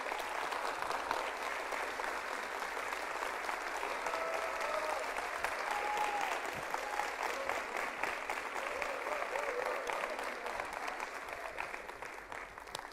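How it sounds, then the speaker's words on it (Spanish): A church congregation on its feet applauding people about to be baptized, loud sustained clapping filling the room for over ten seconds, with some crowd voices underneath. "se volteen a la iglesia para que les den un fuerte aplauso"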